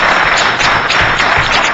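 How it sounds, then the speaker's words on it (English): Applause at a transportation committee meeting: steady, dense clapping from a room of people, loud and continuous throughout without a break. "let's give him a round of applause"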